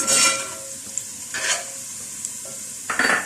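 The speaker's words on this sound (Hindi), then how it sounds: "थोड़ा सा इसको इसमें फ्राई कर लेते हैं" Spices sizzle in hot oil while a spoon stirs and scrapes the pan in a few short strokes, close and moderately loud.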